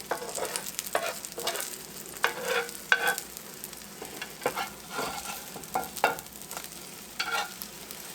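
Eggs sizzling in a pan for a stuffed breakfast sandwich, a close, hissing fry broken by repeated soft scrapes and pushes of a spatula in an uneven rhythm, with no voices.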